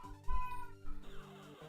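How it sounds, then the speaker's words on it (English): A house cat meowing in the background behind the person, a couple of short faint tonal cries, fairly distant. "I don't know if you can hear, that's my cat back there."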